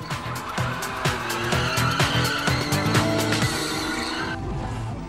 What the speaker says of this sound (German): Auf dem sogenannten Gummiplatz können die GTI-Fans ihre Reifen ordentlich aufheizen,